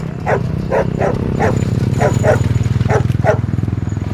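A dog barks in a quick series of sharp, repeated barks over a loud, steady low rumble.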